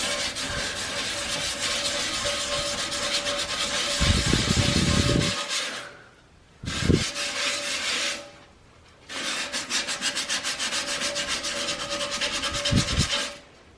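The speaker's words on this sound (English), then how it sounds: "I do have to kind of scrub it a little hard." Close, steady rubbing of a scrub brush against a porcelain toilet bowl to lift a stain treated with vinegar, with sustained strokes broken by two short pauses and occasional heavier scraping bursts.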